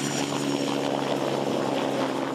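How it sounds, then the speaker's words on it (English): Pilatus PC-24 aeromedical jet built for the Royal Flying Doctor Service, giving a steady, moderately loud engine whine and roar that holds throughout with no talk over it. "this world-first aeromedical PC-24 jet will revolutionise rural healthcare"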